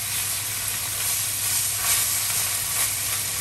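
Berlin-style liver, turned and seared on one side, sizzles loudly in a hot pan: a continuous, close, even crackle and hiss heard on its own.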